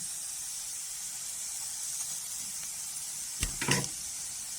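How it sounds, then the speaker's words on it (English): A steady, soft sizzle of onions frying in a pan, with a brief louder clatter near the end. "put some onions in a frying pan"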